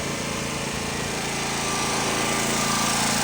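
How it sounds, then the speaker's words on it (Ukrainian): A Honda 3300 W petrol generator runs continuously nearby with a steady, buzzing engine drone that holds even throughout, and no talk over it. "Електростанція працює."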